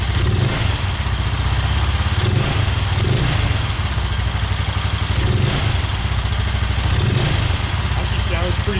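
A 1969 BSA Starfire motorcycle engine, just started for the first time in over fifteen years, idles a little high with a loud, steady close-up putter and mechanical clatter running throughout.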